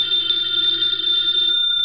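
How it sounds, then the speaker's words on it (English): Telephone bell ringing steadily in a radio drama, a bright continuous metallic trill heard loud and close for a couple of seconds with no voices over it. "Answer the phone, Archie. No, you answer it."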